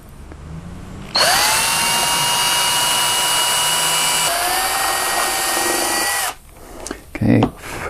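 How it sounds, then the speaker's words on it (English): A power drill bores perpendicular through a wing plate during repair of an SBD Dauntless aircraft wing. A sharp, loud whine starts abruptly, holds for about five seconds with a slight drop in pitch midway, then stops, followed by a few brief handling noises. "And so now we drill this one. We're drilling perpendicular to the plate is the idea."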